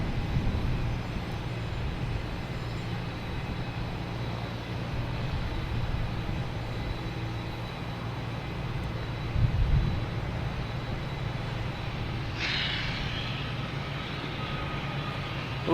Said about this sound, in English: we got Shamrock, A321 Neo heading to Shannon.